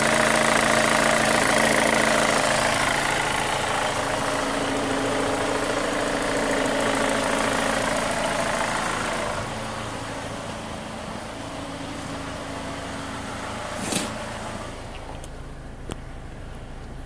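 A 2005 Chevy Cobalt 2.2L engine idles steadily nearby with a suspected lifter tick and a cylinder 4 misfire, a constant mechanical hum and faint rhythmic ticking that eases slightly after the first half, with a couple of sharp clicks near the end.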